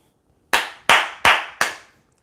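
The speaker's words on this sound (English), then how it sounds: "Jason Garrett clap." Four sharp, loud hand claps in the Jason Garrett style, spaced evenly about a third of a second apart, close to the listener and alone with no voice.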